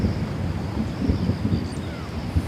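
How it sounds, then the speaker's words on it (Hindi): Thunder rolls through the mountains as a continuous low rumble with uneven swells, fairly loud and without voices. "तो बादल भी गरजने लग गए हैं,"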